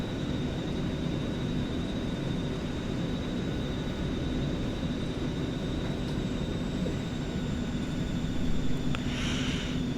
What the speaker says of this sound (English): This plane needs a lot of thrust to get taxiing.